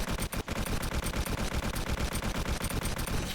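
The Spyker, a Halo spike weapon firing in a Garry's Mod weapon pack, shoots a steady rapid stream of sharp close shots in an even, unbroken rhythm, slightly glitchy and laggy.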